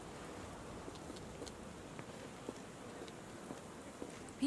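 Steady rain falls in a Victorian London street in a Sherlock Holmes game, an even, soft hiss of drops with faint scattered patters and no voices.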